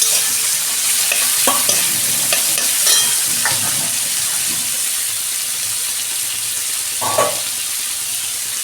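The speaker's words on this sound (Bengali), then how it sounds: "2 মিনিট আমি পেঁয়াজটা ভেজে নেব।" Onions fry in oil in a pan for a soybean dish, giving a steady broadband sizzle that runs throughout, with a few utensil scrapes as they are stirred. Nobody talks.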